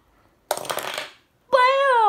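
A Lego Minecraft TNT piece is triggered and its plastic bricks tumble apart in a short, rattling clatter lasting under a second. A voice follows moments later.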